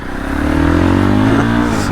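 A Fantic Caballero Flat Tracker 500, running an engine based on the Yamaha WR450, revs briefly and loudly up close, its pitch sweeping upward in one quick rise.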